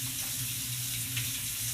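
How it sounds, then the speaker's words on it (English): Water runs steadily from a kitchen tap as hands are rinsed, a continuous close hiss and splash with a low hum beneath and no talking. "just take your fingers off, wash your hands"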